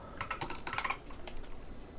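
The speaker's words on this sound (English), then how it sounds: "my typing's being really slow now" Quiet, rapid keystrokes on a computer keyboard come in quick bursts, then thin out into scattered taps with no voices.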